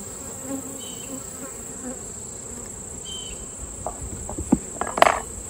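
Wasp droning around a beehive during bulk bee feeding, a steady high insect buzz outdoors with occasional faint clicks and a few sharp handling knocks near the end.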